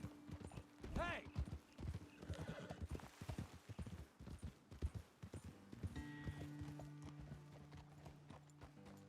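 Horses clip-clop along in Red Dead Redemption II, a steady rhythm of close hoof beats with a whinny early on and someone speaking over the trotting.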